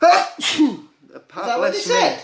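A single loud sneeze bursts out close to the microphone during a podcast, followed by a short pause and then a person speaking.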